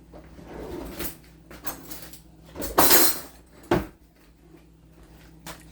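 A knife is fetched from among kitchen utensils: a run of separate clatters and knocks of metal and a drawer or cupboard, with one louder rattling burst in the middle, close by and without talk.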